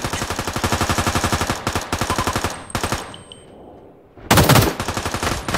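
Rapid automatic gunfire from a gun in the video game Ring of Elysium, loud and close, sounding in dense repeating bursts with a short lull partway through before a heavy volley resumes.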